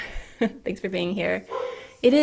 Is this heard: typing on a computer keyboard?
no